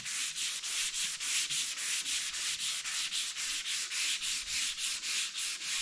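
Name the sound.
sanding primer off car body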